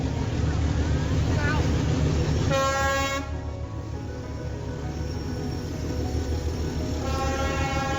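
A night train rolls through the narrow Hanoi train street in Vietnam, a heavy rumble close by, then a loud sustained horn blast and a shorter second toot near the end.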